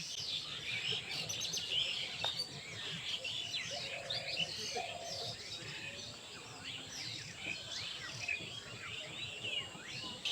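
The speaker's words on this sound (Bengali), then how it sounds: "আশেপাশে পাখির কিচিরমিচির শোনা যাচ্ছে" Birds chirp and twitter around an abandoned village railway station, a busy layer of close and distant calls with a few lower calls that may be doves, under a faint outdoor hush.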